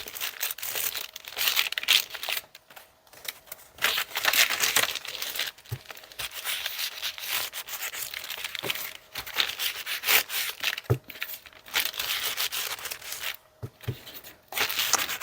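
Paper crinkles and rubs continuously while a junk journal is made from an altered playing card, producing close, soft, irregular rustling with occasional sharper crackles and no talking.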